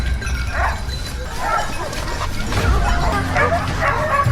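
Hunting dogs bark, yip and whimper in repeated bursts during a chaotic wild boar hunt in a forest, loud and close, with other noise of the chase underneath.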